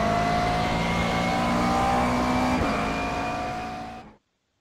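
Racing car engine in a sim racing game driven with a Fanatec McLaren GT3 wheel, a steady high-pitched drone held loud and close for about four seconds before cutting off abruptly.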